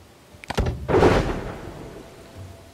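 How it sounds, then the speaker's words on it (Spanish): Thunder rumbles through a stormy scene in the Dawn of Man game, a sharp crack followed by a heavy rolling boom that slowly fades, loud and close. "Pues sí que hay tormenta, ¿eh?"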